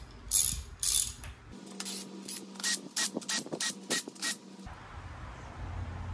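A hand ratchet tightens a small 10 mm bolt on a Toyota Celica engine, about a dozen crisp rhythmic clicks close by in a quiet garage, with no talk.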